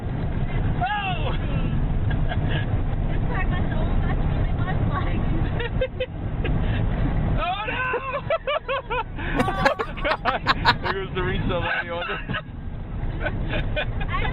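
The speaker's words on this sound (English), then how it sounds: "This is the most insane exhaust I have ever seen." An extremely loud car exhaust blares and revs in rising and falling bursts, raw and honking, while people talk excitedly over it.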